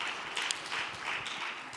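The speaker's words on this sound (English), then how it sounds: "May we please give them another round of applause." Seminar attendees give a brief round of applause, a short wash of moderate clapping in a hall.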